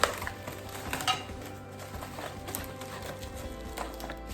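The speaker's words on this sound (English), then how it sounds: "So now we're going to be opening the individual packages for the little frying pans" Small square raclette frying pans from a Cusimax 2-in-1 electric grill are unpacked from their individual packages, with soft rustling and a few light metallic clinks close by, quiet and without talk.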